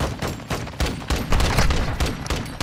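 Rapid close gunfire in Call of Duty: Modern Warfare II, a loud fusillade of overlapping shots and booms that runs the whole short stretch without pause.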